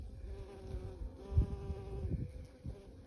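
Honey bees at a hive that swarmed in August buzz close and steady, a droning hum with a few louder passes by individual bees.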